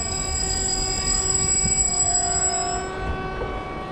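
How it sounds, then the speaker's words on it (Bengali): A MEMU passenger train passes Joychandi Pahar halt on the Asansol–Purulia line, giving a steady rumble of rolling wheels with sustained tonal ringing and squeal, moderately loud, easing slightly toward the end. "আর একটা ট্রেন আছে, ট্রেনটা দেখুন তারপরে কথা বলছি।"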